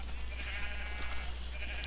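A Minecraft sheep bleats over a steady low hum, giving a couple of wavering, nasal calls close by at moderate volume.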